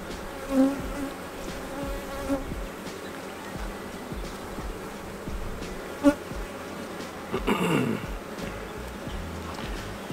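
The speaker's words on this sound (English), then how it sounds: "I've only had a couple bees flying around me like this" Honeybees drone and whine around a hive during an inspection, a steady buzzing with one loud insect passing close near the end, in an outdoor setting.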